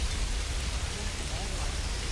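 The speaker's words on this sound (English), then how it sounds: "but it is raining" Steady rain falls in the medieval strategy game Manor Lords, a soft, even hiss of rain that holds at the same moderate level with no distinct drops or thunder standing out.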